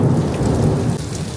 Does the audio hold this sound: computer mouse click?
no